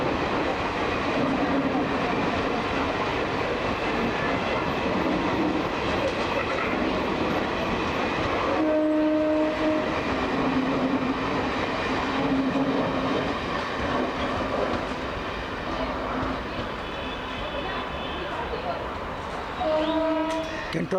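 A WAP1 electric locomotive train rumbles and clatters past loudly for the whole stretch at Bangalore Cantonment station, with sustained horn blasts sounding around the middle and again near the end.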